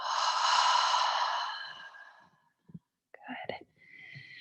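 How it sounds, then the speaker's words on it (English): A long, audible open-mouth exhale during a prenatal yoga breathing exercise, breathy and fairly close, fading out over about two seconds, followed by brief soft movement sounds and quiet talk. "Inhale through the nose."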